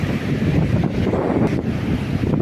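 Strong wind buffets the microphone at Sirrayanam beach while surf rolls and washes behind it, a loud, continuous roar with no voices.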